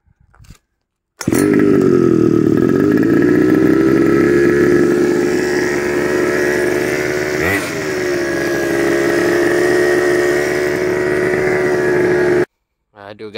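A custom GoPed scooter's small two-stroke engine starts and runs at a high, steady buzzing idle for about eleven seconds, loud and close, with a brief dip mid-run before cutting off.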